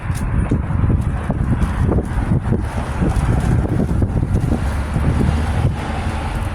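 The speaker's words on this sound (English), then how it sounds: "Wind is blowing." Strong wind blows outdoors, buffeting the microphone with a loud, continuous low rumble and gusty roar throughout, with no talking.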